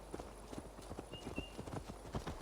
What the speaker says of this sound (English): Okay, his horse is here.